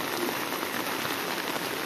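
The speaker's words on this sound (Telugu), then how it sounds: "it's raining heavily man" A dense, even hiss of heavy rain falling steadily on surfaces in Gokarna, constant and fairly loud throughout with no voices.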